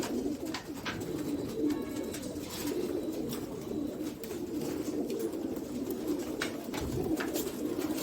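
Sialkoti pigeons coo in low, soft, repeated calls close by, with a steady murmur of several birds overlapping, occasional wing flutters and faint chirps.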